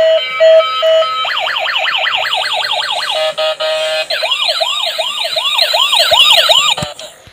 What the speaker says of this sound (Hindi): एम्बुलेंस भी है।